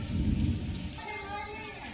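Monsoon downpour with thunder in Uttar Pradesh: a dense, steady hiss of heavy rain with a deep rumble underneath during the first second, easing into continuous rainfall.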